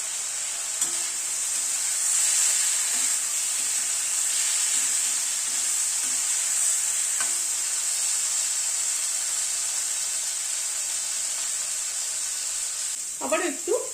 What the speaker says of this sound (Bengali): এবার মশলাটাকে একটু কষিয়ে নেব। অল্প পরিমাণ একটু কাশ্মীরি রেড চিলি দিলাম রঙের জন্য।